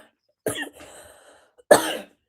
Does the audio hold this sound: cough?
yes